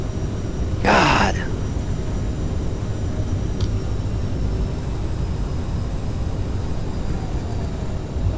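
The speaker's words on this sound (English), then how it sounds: "A little bit of reverse thrust." Airliner engines roaring in reverse thrust after landing in a flight simulator, a steady broad low rumble and hiss held throughout, with a brief voice sound near the start.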